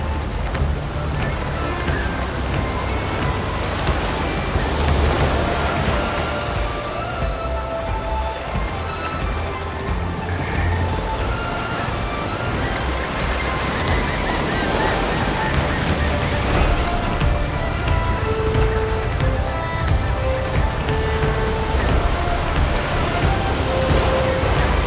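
Strong wind and sea spray roar steadily along the coast near Lüttmoorsiel, a loud, dense rushing of wind and surf that continues without a break.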